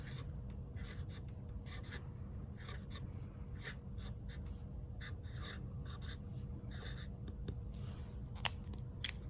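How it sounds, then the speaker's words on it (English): Pen or marker scratching across paper in short repeated bursts of strokes, close and fairly quiet over a steady low hum, as a teacher writes a morning message in small lettering. "I'm gonna try to write a little bit smaller so that I can fit it onto our paper."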